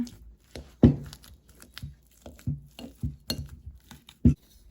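Steamed sweet potatoes being mashed in a bowl, giving a series of irregular soft thumps and scrapes with a few sharper clinks of utensil against the bowl, close and uneven in rhythm.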